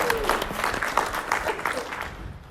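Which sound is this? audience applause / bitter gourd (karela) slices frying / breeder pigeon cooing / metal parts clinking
audience applause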